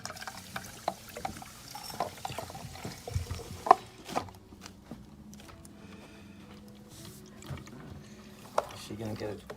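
Water from a large cup pours into a pet water fountain, a soft trickling splash with small clinks, while people talk nearby.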